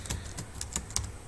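Fingers type on a computer keyboard, entering a name into a MikroTik queue configuration; several quick, crisp keystrokes sound close and moderately loud, with no talking over them.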